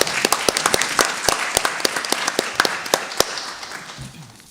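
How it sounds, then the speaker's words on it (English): A room full of people claps steadily, a lively round of applause with distinct sharp hand claps that slowly thins out. "Let's give all of them a round of applause."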